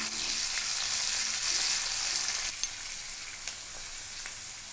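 Cumin seeds and finely chopped onions fry in oil in a pan for a capsicum-potato bhaji, making a steady broad sizzle that eases slightly partway, with a few faint clicks of stirring.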